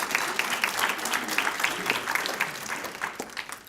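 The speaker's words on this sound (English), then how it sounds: "give yourself a big round of applause for that" A room of listeners at an authors' talk gives a warm round of applause, many hands clapping together in a steady, moderately loud patter that carries on throughout.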